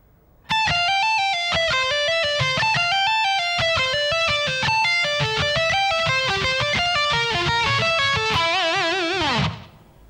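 A fast lead lick played slowly on a distorted electric guitar, a continuous run of clear single notes that ends in vibrato before cutting off.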